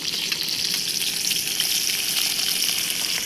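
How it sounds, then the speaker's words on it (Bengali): Sliced onion drops into hot oil already crackling with black cumin seeds in a home kitchen pan, giving a loud, close, continuous sizzle and bubbling hiss with faint stirring, and no voices. "কালো জিরেটা একটু ভাজা ভাজা হয়ে গেছে আমি পেঁয়াজটা দিয়ে দিচ্ছি"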